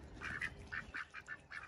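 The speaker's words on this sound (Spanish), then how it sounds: "Ahí vienen los patos blancos también." White ducks quacking in a rapid run of short nasal calls, about seven or eight bursts in under two seconds, fairly close and clear with no talk over them.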